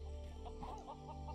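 A chicken clucks a few times in quick succession in the video game LEGO Worlds, over a steady low hum and background music.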